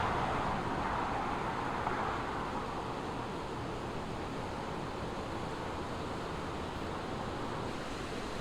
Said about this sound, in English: Love waterfalls.